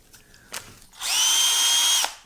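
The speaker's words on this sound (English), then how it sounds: "The battery operated drill" A cordless drill mixing acrylic paint whirs steadily for about a second and then stops, after a brief knock.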